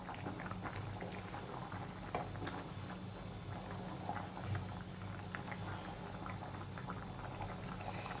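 Taro-and-potato curry simmering in a pot for a village-style tangra fish curry, a steady low bubbling that runs continuously and evenly throughout, with small wet pops scattered over it and no voices.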